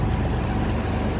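A boat out on the sea near Paximadia island gives a steady wash of water and engine rumble with wind, loud and constant with no pauses.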